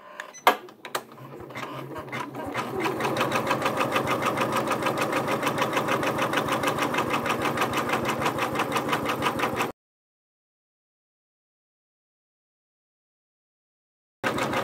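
A Janome MB4 embroidery machine stitching an applique for a quilt-in-the-hoop project, a rapid mechanical needle rhythm running steadily for several seconds after a few clicks, then stopping abruptly into silence before briefly resuming.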